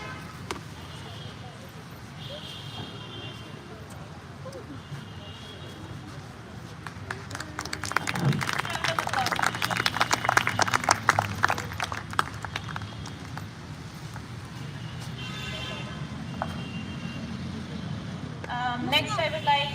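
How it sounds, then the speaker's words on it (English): An audience at a book panel discussion breaks into moderate applause that swells for several seconds before fading back into the room's murmur, with a voice speaking over it. "a well-deserved round of applause"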